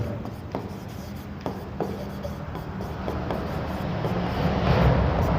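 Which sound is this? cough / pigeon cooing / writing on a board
writing on a board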